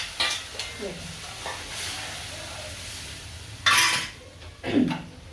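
Besan batter and potato bhaji for batata vada hit hot oil in a kadhai, giving a soft sizzle punctuated by a few sharp spoon scrapes and clinks against the pan.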